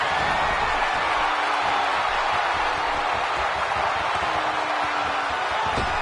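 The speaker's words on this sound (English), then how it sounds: "This is a comeback, and listen to this crowd." A wrestling crowd in a PS4 video game cheers in a dense, steady roar that lasts the whole stretch, loud and even, with no distinct voices over it.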